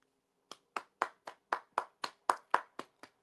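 Eleven sharp, evenly spaced hand claps ring out close and distinct over near silence, one person clapping in praise of a football free kick.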